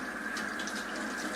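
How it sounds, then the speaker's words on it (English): Tap water runs steadily into a cupped hand to wet a makeup brush, a close, continuous hiss of flowing water with no voices. "I put water in my hand"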